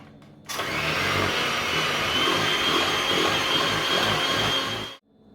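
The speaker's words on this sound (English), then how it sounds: "Keep mixing until the buttercream is pale and fluffy." Electric mixer whisking buttercream for butterfly cakes: a loud, steady motor whine that starts abruptly, runs evenly for about four and a half seconds, then cuts off, with no voices.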